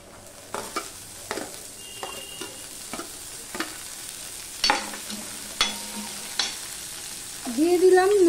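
Green beans stir-frying with browned onions in a pan, a soft continuous sizzle broken by repeated scraping clicks of a spatula stirring, with a brief louder tonal scrape near the end.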